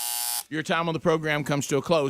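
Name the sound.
radio show time-up buzzer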